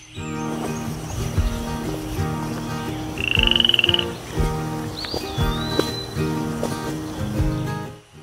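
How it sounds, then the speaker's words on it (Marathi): Frogs croaking without pause in Amboli forest, a dense, rhythmic chorus of repeated pulsing croaks close by, with a brief buzzing insect-like trill and a faint whistle rising through it. "बेडकाची तर जणू इथे शाळाच भरलेली असते. त्यांचा डरावडरावा आवाज सतत कानावर पडत असतो."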